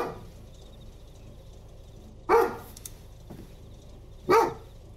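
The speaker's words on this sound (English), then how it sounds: "Why are you barking at the door?" A dog indoors barking at the door, two sharp single barks about two seconds apart against a quiet room.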